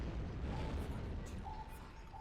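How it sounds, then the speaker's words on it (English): Depth charges detonate underwater in Silent Hunter 5 during an Atlantic wolfpack hunt, a deep, continuous muffled rumbling that swells and lingers with no sharp individual blasts, heard from inside the submarine. "God, listen to this depth charging."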